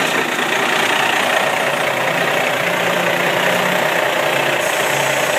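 A truck engine idles steadily during a CDL pre-trip inspection, a constant close, moderately loud diesel rumble and mechanical hum with no talk over it.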